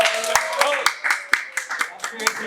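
An audience at an Indonesian millennial organization event gives scattered hand claps, a sparse and uneven patter, while a person keeps talking over them.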